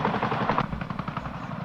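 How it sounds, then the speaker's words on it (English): A CH-47 Chinook heavy-lift helicopter gives off a fast, thudding rotor beat with a broad mechanical roar, steady and moderately distant, with no voices. "Meet the CH-47 Chinook, the ultimate heavy lift helicopter."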